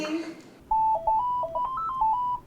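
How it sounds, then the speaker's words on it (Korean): A phone ringtone plays a bright electronic melody of short stepped beeps, loud and close, after a brief bit of voice at the start. "평지 전화가 울린다."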